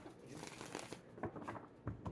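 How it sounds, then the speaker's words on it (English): Tarot cards are shuffled in soft, uneven riffling bursts that repeat over a short stretch, close by and fairly quiet, against steady room noise. "these cards don't want to come together to shuffle"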